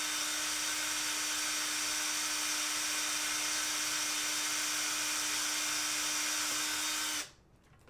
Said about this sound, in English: I'm going to drill on camera, by the way, so you guys will hear this maybe.